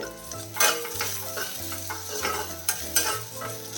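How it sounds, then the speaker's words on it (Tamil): Green tomatoes sauté in a pan over a medium flame, with steady sizzling and frying and repeated stirring scrapes and clinks of a utensil against the pan, close and clear. "நம்ம தக்காளியும் வந்து நல்லா வதங்கணும் வேகணும் ஓகே மீடியம் ஃப்ளேமில் தான் வச்சுருக்கிறேன்"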